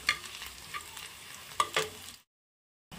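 Onions frying with panch phoron spices in a pan crackle and sizzle, broken by a few scraping stirs, before cutting to sudden silence near the end; no one speaks.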